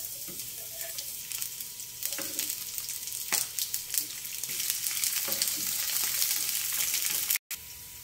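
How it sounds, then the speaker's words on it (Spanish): Onion and garlic cloves fry in hot oil in a pan for a fish adobo, a steady loud sizzle with occasional sharper crackles and stirring scrapes, with no talk. "en un sartén con aceite caliente vamos a sofreír la cebolla y los dientes de ajo."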